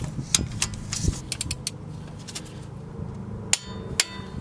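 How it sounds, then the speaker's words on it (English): Torque wrench clicking as front wheel bolts are tightened to 75 foot-pounds during a wheel bearing replacement, giving a few sharp metallic clicks and knocks at close range, spaced apart with quiet gaps between them. "we're going to get our torque wrench and we're going to torque all three of those bolts down to 75 foot-pounds"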